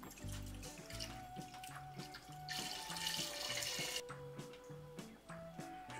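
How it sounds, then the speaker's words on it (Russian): Wheat moonshine is poured into about 2.7 litres of water, giving a rushing splash of liquid that lasts roughly a second and a half over a faint tonal background. "В воду добавляем наш самогон."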